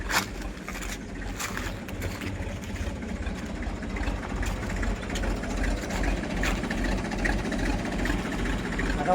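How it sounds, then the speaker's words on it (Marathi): A tractor engine idling outdoors beside a well being cleaned, a steady loud low rumble with a regular chugging pulse throughout, and faint background noise but no clear talk. "ट्रॅक्टरीला या बघा ट्रॅक्टरीला"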